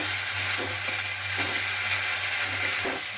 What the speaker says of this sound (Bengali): একটু ভালোভাবে নাড়াচাড়া করে ভেজে নেব।